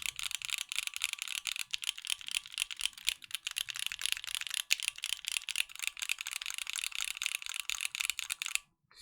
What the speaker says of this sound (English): I don't know if it's picking it up on the microphone. Let me hold it a little bit closer